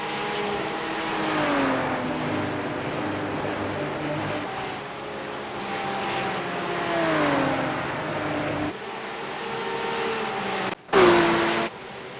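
Engines drone and shift pitch as race cars battle in the iRacing video game, a steady sustained whine rising and falling through gear changes, with a brief cut and a louder burst near the end.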